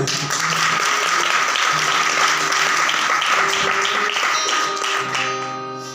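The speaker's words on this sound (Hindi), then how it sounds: "जरा जिन्हां नूं समझ आ रही ने जरा एक बारी ताली बजाओ" A church congregation claps during a pastor's sermon, producing a steady, dense wash of applause that holds for several seconds before thinning out, with a sustained tone lingering underneath toward the end.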